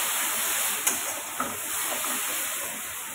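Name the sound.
spice paste frying (kasha) in pan for crab curry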